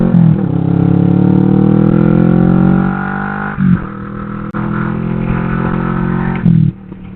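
A motorcycle ridden on a highway, its engine droning loud and close with a steady note, dipping briefly at gear changes and settling again.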